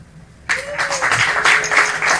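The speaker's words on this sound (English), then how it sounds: "Clap your hands if you've been to an escape room." Crowd at a stand-up comedy open mic breaking into clapping that starts abruptly and keeps going steadily, fairly loud and close, filling the room for a couple of seconds.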